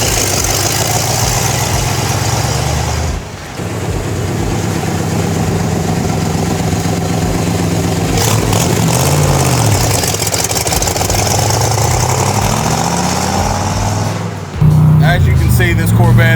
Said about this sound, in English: this Corvette, it goes through the gears just as smooth as you could ask for